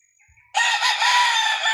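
Backyard fighting rooster crowing once, a loud close harsh crow lasting over a second after a brief faint bird call and near-silence.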